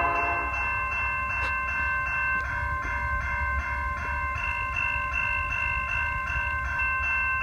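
A BC Rail train rolls through on the Mount Clemens Subdivision in Warren, Michigan. A steady, loud whistle-like tone holds over the rumble of the passing cars, with faint rhythmic clicking of wheels on the rails.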